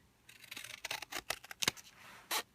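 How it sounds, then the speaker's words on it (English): Scissors snipping through toilet paper roll cardboard, a quick series of crisp cuts in uneven rhythm with a final sharp snip, close and quiet, no talking. "I'm just going to cut this material off now"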